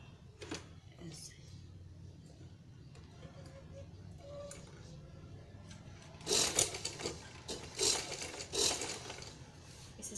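A sewing machine stitches a high-neck designer blouse, with a few short, loud whirring bursts near the end following quieter handling sounds, and a person speaking nearby.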